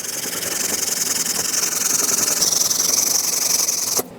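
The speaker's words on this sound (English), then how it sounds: "I think a wire brush will do the trick" A wire brush scrubs rust off a Subaru Forester front brake bracket, giving a steady, close, harsh scratching hiss that runs continuously and cuts off abruptly near the end.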